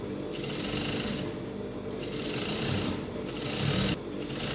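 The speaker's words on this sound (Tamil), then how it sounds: "இப்போ ரெண்டாவது சைடையும் பட்டி வச்சு தைக்கலாம்." A sewing machine stitches piping onto a blouse, a steady close mechanical whirr that runs in several bursts with short slowdowns between them.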